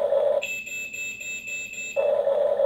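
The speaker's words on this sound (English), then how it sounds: "There's the beep that lets you know it's paired." Pairing beep from a HUINA 1570 RC excavator and its controller: a steady high electronic tone lasting about a second and a half, clear and close, with a lower hum before and after it.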